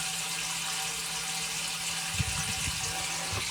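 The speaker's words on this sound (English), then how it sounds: "The water is running, but it's not up to the two pipes." Water running steadily through pipes in a home woodworking workshop, heard as a continuous, even hiss throughout, with a few soft low thumps near the end and no talking.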